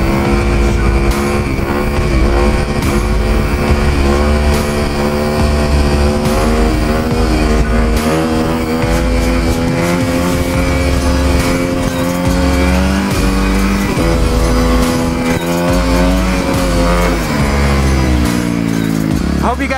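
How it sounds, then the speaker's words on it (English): A dirt bike on ice, a Kawasaki KX250F or KTM 250, revs hard for a quick wheelie, the engine note climbing and falling in steady loud surges close by with no pauses. "I'm gonna do a quick little wheelie for you guys."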